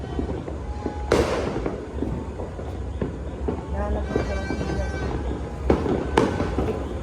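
Firecrackers go off in sharp loud cracks, two or three distinct bangs amid background noise and people talking nearby.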